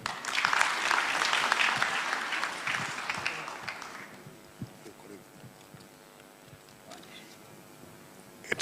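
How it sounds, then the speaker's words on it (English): Audience at a church general assembly applauds loudly for about four seconds, then the clapping fades into scattered claps and hall hum. "Clap for them."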